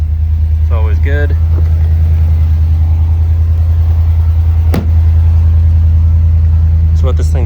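Close, loud and steady cold idle from a car running an aftermarket MagnaFlow exhaust, a deep constant rumble throughout, with a brief click midway and short bits of speech on top.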